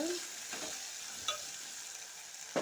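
Potatoes frying in oil for a simple curry, a steady broadband sizzle with a few stirring scrapes, close and moderately loud, no talking.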